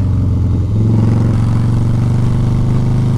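A 2020 Harley-Davidson motorcycle in second gear goes to full throttle, its loud, close engine rising into a rapid pulsing roar with a slight surge in pitch.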